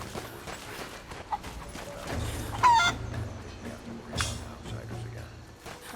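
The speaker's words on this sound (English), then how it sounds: "You can pick up chickens and throw them around." Chickens clucking in the video game Rise of the Tomb Raider, a few soft clucks and squawks mixed with footsteps and ambient game sound, fairly quiet and close.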